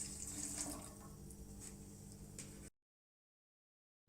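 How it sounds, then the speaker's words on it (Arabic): Hot water runs steadily into a second bowl while a childhood no-bake dessert is being made. The pour is a faint, continuous splashing for under three seconds, then stops suddenly into silence. "هنضيف مية سخنة"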